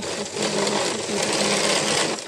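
A sewing machine runs steadily at close range, joining a blouse sleeve to its lining in a continuous buzzing whir that holds at an even level for a couple of seconds.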